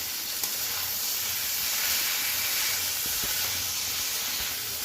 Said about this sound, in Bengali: এবার আমি এই ডুমুরটা সেদ্ধ করে রেখেছি ডুমুরটা দিয়ে দেবো একটু কষে নিয়ে